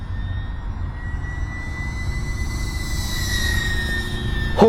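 Small electric motor of an E-flite UMX P-47 radio-controlled warbird at full throttle, a steady, close, high-pitched whine with a slight rise toward the end, no talking.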